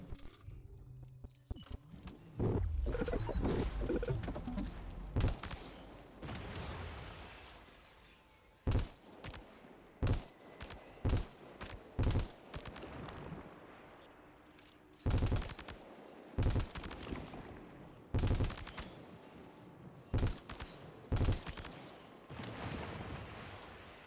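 Repeated gunshots from a video game weapon, first a dense sustained burst of fire, then a series of separate sharp shots and short bursts spaced a second or two apart, fairly loud with no talking.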